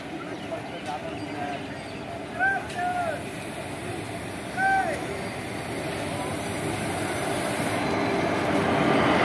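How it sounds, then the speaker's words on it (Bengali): The Ganadevta Express rolls into Sheoraphuli station, its heavy rumble swelling steadily from a moderate distance. Voices talk over it and a few brief tones sound. "আজিমগঞ্জ এক্সপ্রেস যেটাকে বলা যায়। আমাদের গণদেবতা ঢুকছে"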